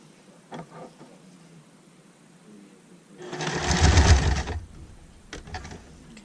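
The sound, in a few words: sewing machine stitching around a baby bib's neck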